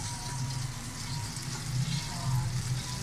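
Oil sizzling in a pot while masala is fried for a beef paya (trotters) curry, a steady low bubbling hiss with broadband crackle throughout, fairly close and continuous with no talk.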